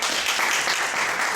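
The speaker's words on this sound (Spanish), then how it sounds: "El profesor es multifacético, así que un aplauso para el profesor Miguel Ángel." Steady, dense applause from an audience at a cultural centre exhibition event, welcoming a professor, loud and continuous throughout, with no pauses.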